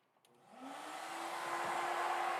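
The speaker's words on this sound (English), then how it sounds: "I do have to get my vacuum started" A workshop vacuum cleaner starts up after a couple of soft clicks, its motor spinning up into a rising whine and then settling into a loud, steady roar with a clear tonal hum.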